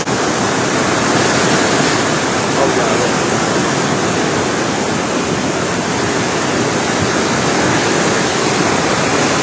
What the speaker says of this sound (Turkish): Şu adeta her tarafı yıka yıka geliyor.